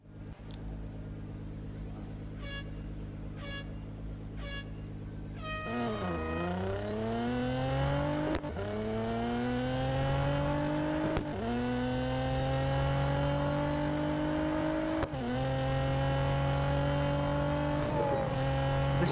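Race cars in Real Racing 3 Tier 4 autocross at Francorchamps accelerate through repeated gear changes, each rising engine whine cut off by a shift, preceded by a few countdown beeps over a low idle.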